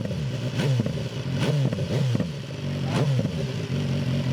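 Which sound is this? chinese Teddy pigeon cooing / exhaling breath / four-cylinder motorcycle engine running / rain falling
four-cylinder motorcycle engine running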